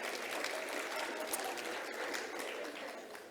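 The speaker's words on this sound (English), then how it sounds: "Let's give them a round of applause." Round of applause from an awards-ceremony audience at a Women in Science Awards event in South Africa, steady dense clapping throughout.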